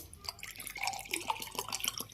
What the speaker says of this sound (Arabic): هنحط مية